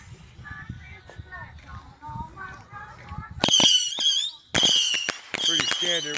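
Fireworks missile battery firing, a rapid series of sharp whistling shrieks and crackling pops in loud bursts, preceded by people talking.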